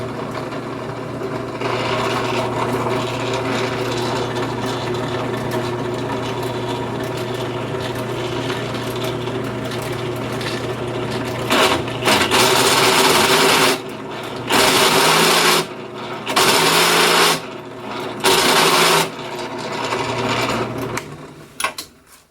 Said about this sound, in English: I'm in here on the drill press now, and I'm getting ready to cut the recess for these flush